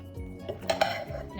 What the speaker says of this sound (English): we're gonna toss to make sure to coat all of them into the olive oil and all the spices